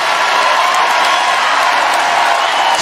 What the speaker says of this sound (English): Student section is loud and into it.